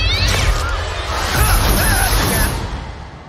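A cat meows and caterwauls up close in an animated scene, loud over a busy backdrop of music and effects.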